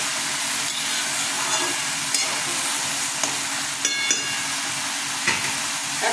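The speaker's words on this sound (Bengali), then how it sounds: "এবার স্পঞ্জ গোর্ড ছেড়ে দিচ্ছি।" Sponge gourd fries in a hot pan, a continuous close sizzle with a few sharp utensil clicks and scrapes scattered across it, no voices.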